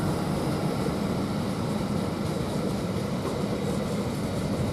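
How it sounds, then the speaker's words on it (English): An LNER Class 801 train, unit 801103, on the Leeds to London King's Cross service at Doncaster station, a steady broad rumble and hum of the train running close by, unbroken and fairly loud, with no talking. "11:13 from Leeds to London King's Cross service. And it is 801103."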